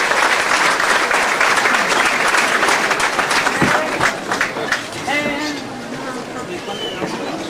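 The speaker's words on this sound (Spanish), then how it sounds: "Fuerte el aplauso también para Juan Villoro" A graduation ceremony crowd in Ayotzinapa gives loud, sustained applause for writer Juan Villoro, dense clapping and crowd noise that thins and fades over several seconds as voices come through.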